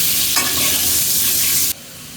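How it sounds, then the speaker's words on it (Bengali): Potatoes fry in a pan for an egg bhuna, giving a loud, steady sizzle with stirring that drops abruptly to a quieter hiss near the end. "এখন আলুগুলো দিয়ে নিছে তারপর পেঁয়াজ গুলো দিয়ে নেবো"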